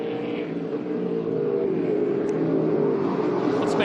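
Race cars at Winton Motor Raceway roar steadily past on track, a loud sustained engine drone with gear-laden harmonics that swells slightly as the pack approaches, no talk over it.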